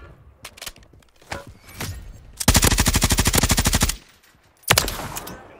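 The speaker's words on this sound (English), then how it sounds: "we get shot from the top" Gunfire in the video game Warzone 3: scattered sharp single shots, then a long rapid automatic burst of evenly spaced cracks, followed by a shorter loud burst near the end.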